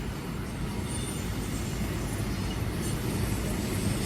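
A goods tanker train rolls past close by, a loud, unbroken rumble of wagons and rails lasting throughout, with no voices.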